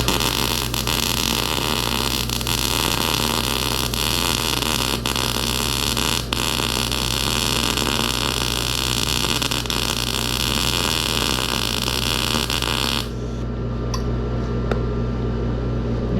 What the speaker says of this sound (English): Sorry for the other noises, guys. I got the air conditioning on.